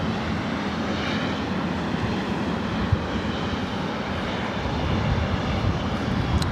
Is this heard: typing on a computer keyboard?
no